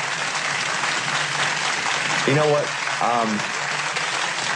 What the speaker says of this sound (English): Gotta wait for that applause to kind of go down here